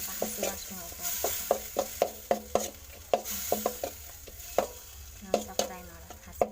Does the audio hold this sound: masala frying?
yes